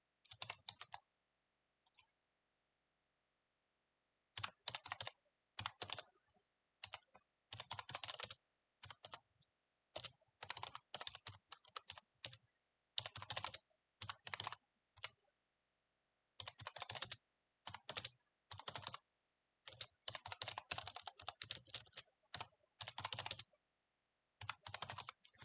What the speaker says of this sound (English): Sorry for the keyboard.